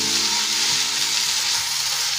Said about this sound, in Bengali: চালতা না নাড়া দিলে নিচে লেগে যেতে পারে।